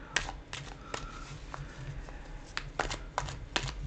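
Quiet, irregular clicks and soft riffling of tarot cards being shuffled, several short bursts spaced apart, close by with no talking.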